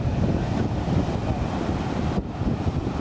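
Rough Atlantic surf breaking on the beach at Elmina, Ghana, a steady loud roar of waves with heavy wind buffeting the microphone throughout.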